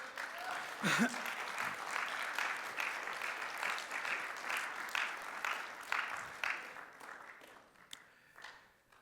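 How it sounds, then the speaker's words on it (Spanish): A church congregation claps for Jesus during a sermon, a soft, sustained patter of many hands heard at a distance, fading toward the end. "Dale un aplauso a Jesús"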